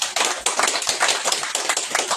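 A church congregation claps together in steady, dense applause that stays loud and close throughout, with individual hand claps blending into a continuous patter.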